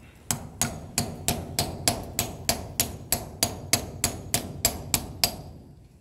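A hammer striking a chisel to crack a Coco geode from St. Francisville, Missouri: about sixteen sharp, evenly spaced metallic blows in a steady rhythm, close and clear with no talk.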